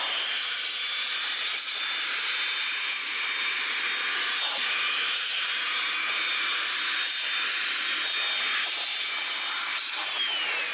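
A cordless vacuum runs continuously with a steady high-pitched whine and airy hiss while cleaning car seats during auto detailing, with faint shifting bumps as the nozzle moves, close and alone without talk.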